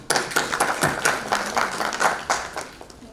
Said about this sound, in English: So can I have a round applause for sir?